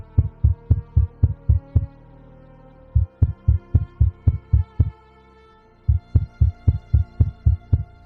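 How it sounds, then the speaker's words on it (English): A steady heartbeat effect thumps loud and close in repeated double-beat bursts, pausing briefly twice before resuming, with a low hum beneath and no voices, setting a tense mood during a tabletop role-playing session. "You hear the sound of a heartbeat."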